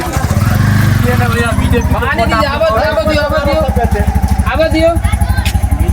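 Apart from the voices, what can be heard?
car turning around on a damaged village road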